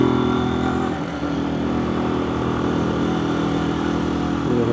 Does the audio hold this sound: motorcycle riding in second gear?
yes